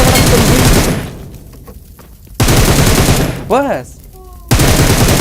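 Bursts of automatic gunfire in the mobile shooter BGMI, loud rapid volleys that start and stop in three separate bursts, with a brief game tone in a quieter gap and a short spoken word.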